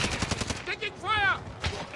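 Call of Duty gunfire crackles in quick, close shots, mixed with a game voice calling out and a tonal effect in the middle.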